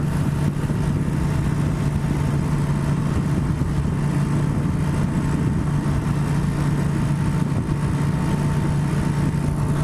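A 1996 Suzuki VS1400 Intruder motorcycle rides at a steady pace, its V-twin engine giving a constant drone with a thin whine, mixed with wind rush and no break for the whole ride.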